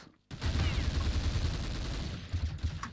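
Dense gunfire in the video game Counter-Strike 1.6, a sustained rapid burst of shots that starts abruptly and roars on for over two seconds, loud and close, with a faint voice beneath.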